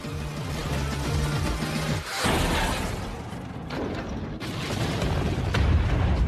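A loud, rumbling explosion with crackling, debris-like noise, sustained and dense over a low mechanical drone, with no voices.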